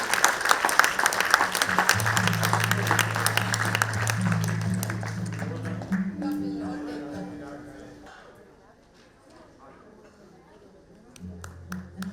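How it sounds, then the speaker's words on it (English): Applause from an audience honoring women entrepreneurs at a business chamber event, strong at first and tapering away, with a low musical tone underneath and a voice speaking near the end. "You all have to give them another very big round of applause today."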